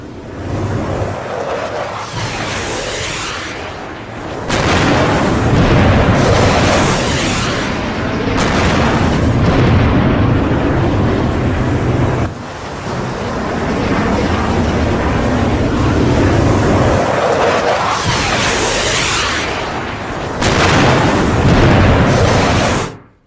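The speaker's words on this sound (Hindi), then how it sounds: "ये है ट्रंप का युद्धपोत अब्राहम लिंकन, इस पर मिसाइल से हमला हुआ है आसमान में" Missiles strike a warship in an AI-generated attack scene, producing loud, sustained booming explosions that roll continuously with brief dips between heavy blasts.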